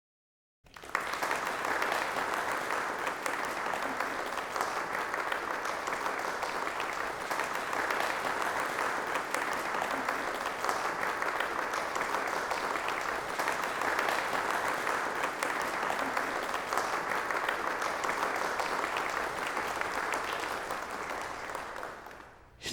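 Layered hand claps with added reverb forming a continuous, dense rain-like hiss, steady and even in loudness for over twenty seconds, with no voices.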